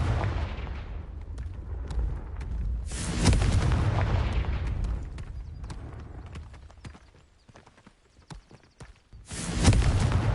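Confringo blasting spells from Hogwarts Legacy go off as a run of sharp, booming explosions with crackling debris, two big blasts standing out against quieter popping impacts in between.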